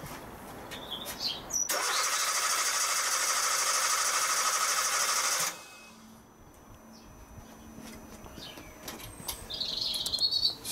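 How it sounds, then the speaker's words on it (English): A WPS500 generator is hand-cranked in a quiet room, giving a steady, loud, buzzing whir for about four seconds that stops abruptly and leaves faint background noise. "We'll start the scope running and we'll just give it a crank and see what happens"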